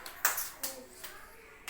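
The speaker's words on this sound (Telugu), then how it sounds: "క్లాప్స్ కొట్టండి నాన్న" Young children at an anganwadi fine motor activity clap their hands in a few scattered, uneven claps, close by and moderately loud, with quiet gaps between them.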